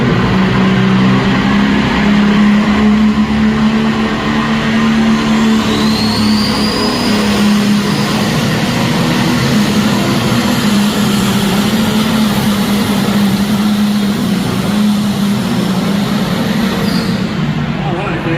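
A John Deere 7810 tractor at a tractor pull in Swanton, Vermont roars loudly and steadily the whole time, a dense sustained engine drone with a low hum, an announcer talking over it.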